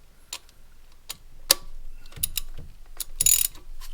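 A ratchet on an extension works loose a car spark plug, giving sparse, sharp metallic clicks and ticks spaced irregularly, fairly close and moderately quiet.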